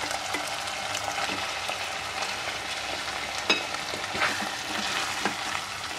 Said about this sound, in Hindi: इसको मैं 5 मिनट फ्राई करूँगी।